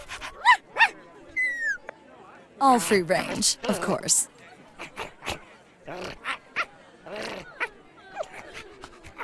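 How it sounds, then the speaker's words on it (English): Puppies whimper, yip and bark in the Minecraft Story Mode video game, giving high squeaky whines and short barks in scattered bursts, with a character's voice speaking between and over them. "Got some fine puppies here."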